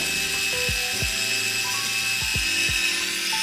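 An electric pepper grinder's small motor whirs steadily at close range, with repeated downward-swooping tones and faint clicks recurring every second or so.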